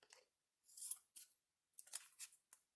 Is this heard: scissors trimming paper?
yes